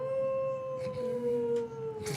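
A dog lets out a long sustained howl, a clear wavering tone that slowly slides downward, loud and close, with faint background noise.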